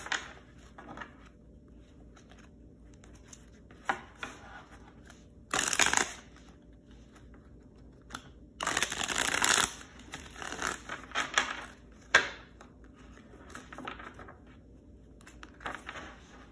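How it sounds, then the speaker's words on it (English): Tarot cards are shuffled by hand in short bursts, with two louder riffling flurries and scattered lighter card taps and slides between quiet pauses, close and alone without speech. "Shuffle a little bit more."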